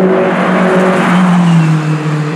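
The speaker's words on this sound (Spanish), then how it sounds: "Hay coche a la vista, a 2 kilómetros del punto final." A rally car nears the finish on the Caminos del Inca 2018 road race stage from Arequipa to Lima, its engine roaring loud and close as it speeds past, with no voices.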